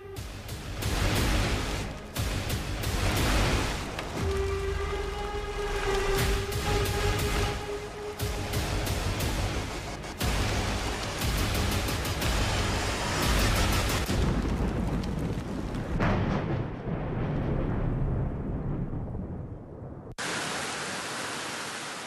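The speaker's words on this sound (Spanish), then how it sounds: "Lluvia y granizo cayó esta tarde en varios sectores de la capital y municipios aledaños." Rain and hail pour down in a capital city and nearby towns, making a dense, loud, unbroken roar that lasts throughout, with heavy low rumbling underneath.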